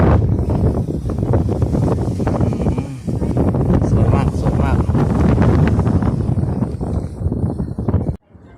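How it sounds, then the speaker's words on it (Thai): Strong wind buffets the microphone on the mountain summit at Wat Tham Suea temple in Krabi, a loud continuous roar that fills the clip before cutting off abruptly near the end. "ลมแรงมากนะครับ"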